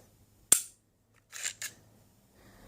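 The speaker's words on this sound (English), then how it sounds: "That can also be accomplished by dry firing the pistol." A Smith & Wesson M&P 45 Shield .45 ACP pistol dry fires with one sharp, close metallic click, followed by a quick double clack of slide or trigger handling in an otherwise quiet room.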